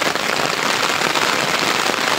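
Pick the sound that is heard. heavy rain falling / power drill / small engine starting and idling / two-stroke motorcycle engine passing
heavy rain falling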